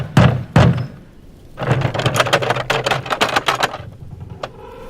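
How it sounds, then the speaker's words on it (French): Someone knocks on a door, with two heavy, close knocks followed by a quick flurry of lighter raps, loud and with no talking. "Il prit son courage à deux mains, retint son souffle et frappa à leur porte."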